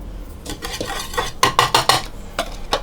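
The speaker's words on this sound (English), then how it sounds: "I just see some of the garlic powder is clumped together, so I'm breaking that up." Utensil stirring and scraping in a bowl to break up clumped garlic powder, a run of close, quick clinking and tapping strokes that grow sharper and more rhythmic midway.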